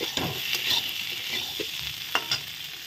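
A spoon stirs paneer pieces and sweet pumpkin frying in a pan, with scraping strokes over a steady soft sizzle and a few sharper clinks, all close and with no voices.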